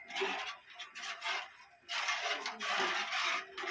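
Spoon scraping and stirring rice flour as it cooks in a pan, repeated rhythmic rubbing strokes in short bursts, close and alone without speech.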